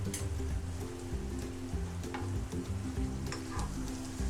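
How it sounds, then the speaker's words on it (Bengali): Snacks made with flour and chicken fry slowly in oil over low heat, a steady close sizzle with soft crackles running through, unbroken for the whole stretch and free of talk. "এগুলো আমার আস্তে আস্তে ভাজতে হবে, একটু সময় নিয়ে"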